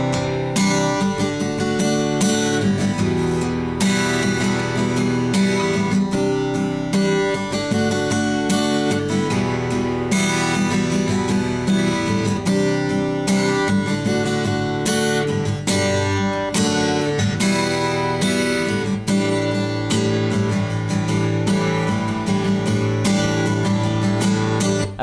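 Acoustic guitar slowly strums through the chord changes of a song's bridge, a continuous run of rhythmic strokes ringing loud and close for the whole stretch, with no talking.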